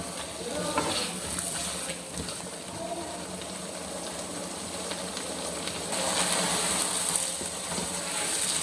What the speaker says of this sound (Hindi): इसको अच्छी तरह मिक्स कर लेंगे। इसकी अच्छी तरह भुनाई कर लेंगे।